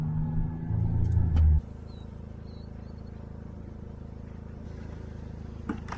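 A vehicle on a farm rumbles loudly at close range for about a second and a half, then cuts off, leaving a low steady idle-like hum with faint bird calls.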